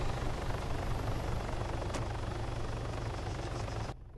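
Helicopter in the video game ARMA 3 Altis Life, a loud steady rotor thump and turbine whine running continuously before cutting off abruptly at the end.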